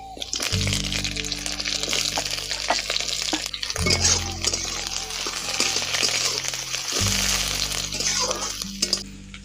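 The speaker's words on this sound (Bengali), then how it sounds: "এখন ক্যাপসিকাম আর গাজর কুচি ভেজে নিয়েছি" Chopped carrot and capsicum fry in a pan for fried rice, a steady close sizzle with stirring scrapes, broken by two short pauses as the pan is worked.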